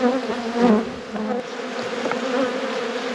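Honey bees buzz steadily and loudly at close range during a late-season full inspection of a double brood hive on a windy day, a continuous droning hum with no talk.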